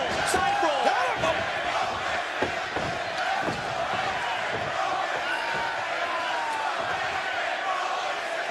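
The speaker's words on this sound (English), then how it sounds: "You hear the reaction from this incredible crowd in St. Louis, Missouri" A wrestling arena crowd in St. Louis, Missouri roars steadily through the whole stretch, with a commentator talking over it and occasional thuds from the ring.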